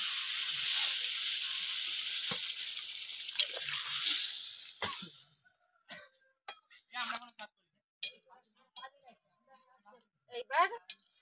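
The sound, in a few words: water poured into hot pan of chicken curry, sizzling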